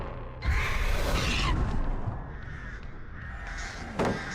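Crows cawing in the Dead by Daylight video game, harsh calls rising over a dense, rumbling game ambience with whooshing bursts, no talk.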